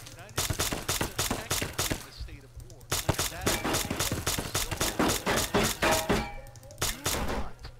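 Modded SMG and riot shotgun gunfire in the video game Fallout: New Vegas. Loud rapid bursts and repeated sharp blasts come in quick succession, with a brief pause around the middle before the firing resumes.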